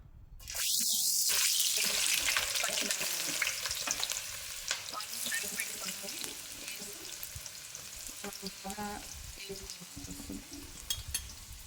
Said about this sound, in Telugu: చక్కగా దోరగా గోల్డెన్ కలర్లో వచ్చేటట్టు మనం వేపుకోవాలి.